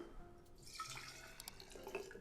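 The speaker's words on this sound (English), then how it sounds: "here's a cup of white vinegar" White vinegar poured from a cup into a mason jar while making Eastern North Carolina BBQ sauce, a faint, quiet trickle of liquid with small splashes.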